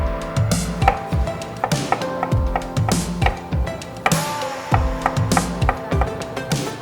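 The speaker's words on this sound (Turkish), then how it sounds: "Mantarlarımızı da bu şekilde ortadan ikiye keselim." A knife chops mushrooms rapidly against a cutting board, a steady run of sharp, close taps with brief pauses between bursts.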